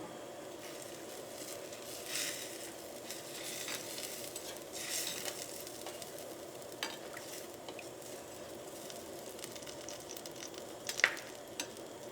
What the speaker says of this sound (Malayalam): ഇതെല്ലാം കൂടിയിട്ടൊന്ന് മിക്സ് ചെയ്യുക